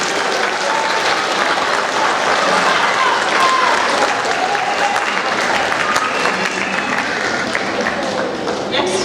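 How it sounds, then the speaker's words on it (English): School audience clapping for seventh grade award students, a loud sustained round of applause from a crowd, with voices audible beneath it. "Let's give them another round of applause."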